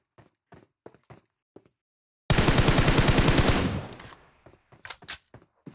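Automatic gunfire in PUBG, a single rapid burst of about a second and a half, loud and close, framed by sparse sharp clicks and taps before and after.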